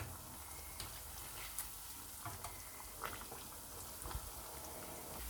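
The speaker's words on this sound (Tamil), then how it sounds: "நம்ம மேரினேட் பண்ணி வச்சுருந்த பன்னீரெல்லாம் ஒன்று ஒன்று அதில் போட்டு ஃப்ரை பண்ணிடலாம்" Marinated paneer pieces fry in hot oil with a steady, quiet sizzle, and a few soft pops and clicks break through the hiss now and then.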